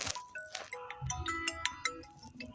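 An incoming call sets off a phone's ringtone, a bright electronic melody of quick stepped tones played fairly quietly, with no voices over it.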